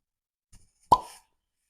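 A cork comes out of a bottle of alcohol-removed Cabernet Sauvignon wine with a single soft, close pop, preceded by a faint handling rustle.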